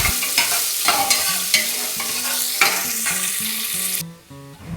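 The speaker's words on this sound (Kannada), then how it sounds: "ಈರುಳ್ಳಿ ಸ್ವಲ್ಪ ಫ್ರೈ ಆಗಲಿ." Sliced onions fry in hot oil for pudina pulao, sizzling loudly while a spoon scrapes and stirs the pan in repeated rhythmic strokes, and the sizzle drops away sharply near the end.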